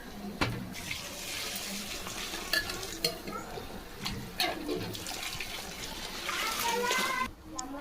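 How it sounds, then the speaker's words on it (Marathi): Hot water poured into a pot of chicken pulao with mixed rice and chicken, a nearby splashing pour with stirring, while a person talks over it. "आपण गरम पाणी करून ठेवलं होतं ते आपण याच्यात ऍड करणार आहोत"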